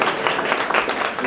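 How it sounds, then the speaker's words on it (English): A short burst of crowd applause at a year-end meeting, dense and fairly loud, with steady clapping throughout. "Let's give a round of applause to Mustard Seed and Philip for bringing the food."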